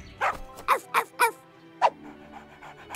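A dog gives a series of short, close barks and yips in uneven bursts, with brief pauses between them.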